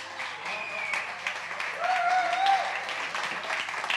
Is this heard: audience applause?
yes